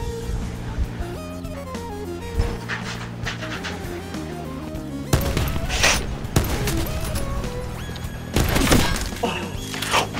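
Video game gunfire in a shooter with sniper rifles, rapid bursts and cracks layered over a loud in-game music and effects bed, with players talking over it.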